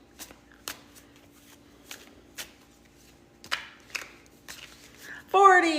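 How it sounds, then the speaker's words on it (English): A deck of oracle cards with edges breaking off is shuffled in short, crisp riffles and taps spaced irregularly, close and fairly quiet, with a voice briefly speaking at the end. "They're not good for shuffling because the edges are breaking off."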